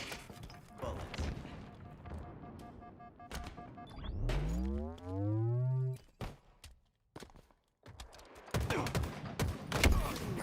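Gunfire in the video game Halo crackles in rapid bursts of shots at the start and again toward the end, with a loud, sweeping tonal whoosh between them.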